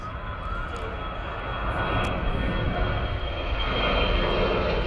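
An AirAsia Airbus A320 jet at Perth Airport gives a loud, steady roar of engines that swells gradually, heard in the open with no one speaking.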